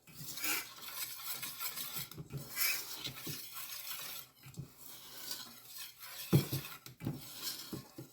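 Chocolate cake batter being mixed with a flour mixture in a bowl, a steady scraping, rubbing stir with clinks of utensil against the bowl and one sharper knock partway through, close and fairly quiet.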